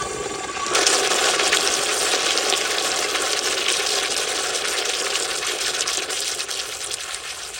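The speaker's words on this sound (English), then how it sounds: "And here is another flush." A 2018 Kohler Dexter urinal, its flushometer fed by a garden hose, flushes with a sudden loud rush of water that starts abruptly and pours steadily for several seconds.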